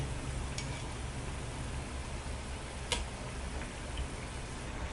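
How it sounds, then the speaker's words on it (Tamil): Badusha dough deep-frying in hot oil on a low simmer until golden brown: a steady, close hiss of bubbling oil throughout, with a couple of brief sharp pops or ticks. "இப்போ நம்ம டீப் ஃப்ரை பண்ணி எடுத்துக்கலாம்"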